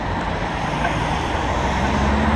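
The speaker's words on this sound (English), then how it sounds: "That car sounds fast." A fast car roars past along a road in the woods at night, a loud, steady broadband rush of engine and tire noise filling the whole moment.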